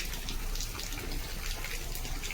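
Floodwater surrounds a house after heavy rain, pouring with a steady, close rushing gush that never pauses and carries no voices.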